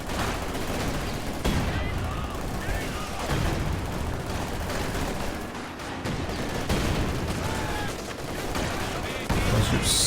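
Dense gunfire from a Company of Heroes 2 match rips into a guard squad, a continuous rattling barrage of shots and impacts layered with battle noise for the full stretch, loud and busy throughout.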